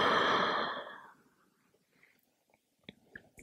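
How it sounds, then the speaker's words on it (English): A long, breathy exhale out of the mouth during a yoga cool-down fades out over about a second, followed by quiet soft mouth and breath noises, heard close up. "And exhale out of your mouth."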